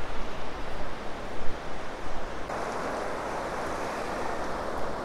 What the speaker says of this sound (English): the river is really in full flow